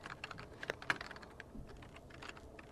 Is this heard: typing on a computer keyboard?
yes